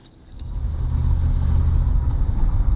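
A 1977 Mercury Marquis with a sticking throttle accelerates, its engine rising from a low idle into a loud, deep, rumbling roar close by, sustained with no talk.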